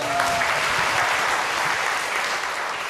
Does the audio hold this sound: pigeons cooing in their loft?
no